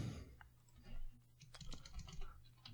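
Fast typing on a computer keyboard: a quick run of sharp keystroke clicks, close and clear over a low steady background hum.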